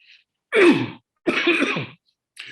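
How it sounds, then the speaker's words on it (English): Two loud, raspy coughs close by, a short pause between them, and no talking. "I have a bit of a cough"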